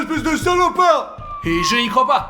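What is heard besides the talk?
police siren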